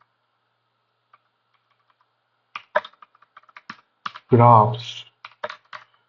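Keystrokes on a computer keyboard come in short irregular bursts while a project demo is entered, moderately close, with a person speaking briefly in the middle.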